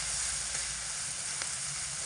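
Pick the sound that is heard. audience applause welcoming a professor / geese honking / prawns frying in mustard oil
prawns frying in mustard oil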